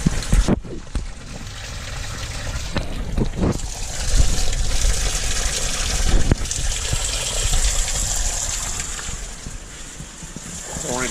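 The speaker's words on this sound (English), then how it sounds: "Already filling in the water" Water gushes steadily into a 1000-gallon rubber liner sump that serves six 240-gallon tanks, filled with RO water plus some raw well water. The rushing is continuous and fairly loud, with a few brief bumps and splashes.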